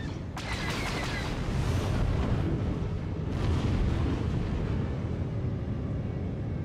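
Two bursts of sharp blasts rise over a dense rumbling roar, as rapid laser cannon fire from a starfighter space battle video game sounds in quick succession.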